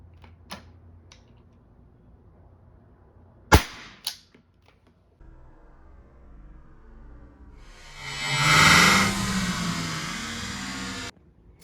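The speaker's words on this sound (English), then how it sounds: "going to test fire the Umarex one more time to make sure firing wasn't biased by the low impact point" An Umarex pepper launcher test fired, a few sharp cracking shots in a quiet setting, followed by a longer rising rush of noise near the end.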